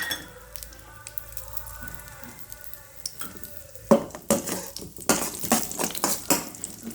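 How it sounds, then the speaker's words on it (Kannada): Cashews and raisins sizzle in hot ghee for sweet pongal, a steady soft frying hiss broken by scraping, stirring clinks against the pan that grow busier toward the end. "ಇದನ್ನು ಎಲ್ಲ ಹುರ್ಕೋಬೇಕು ತುಪ್ಪದಲ್ಲೇ"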